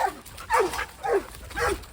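A dog gives three whining, whimpering yelps with rising-falling pitch, close by and moderately loud, spaced about half a second apart with brief quiet between.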